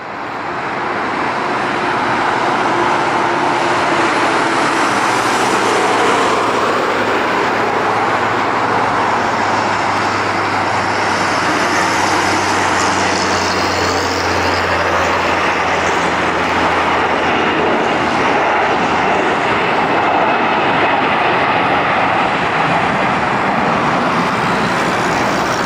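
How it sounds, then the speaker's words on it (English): An Airbus A340 jet airliner taking off from a runway, barely clearing its end, produces a loud, sustained roar of engines that builds and holds with a broad rushing tone, heard alone throughout. "This RX Airbus A340 that barely managed to take off before the end of the runway."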